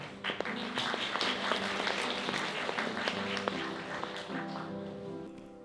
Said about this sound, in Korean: 그럼 축사자를 큰 박수로 모셔보도록 하겠습니다.